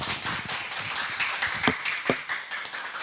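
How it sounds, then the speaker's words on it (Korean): Scattered clapping from a modest audience at a church talk concert as a pastor is welcomed, soft and fairly distant with a few sharper individual claps standing out. "박수로 맞이해 주십시오."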